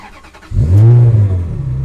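A Ferrari 360 Modena F1 engine cranks and fires at about half a second, then settles into a loud, steady, deep idle rumble with a slight swell, heard up close with no talking.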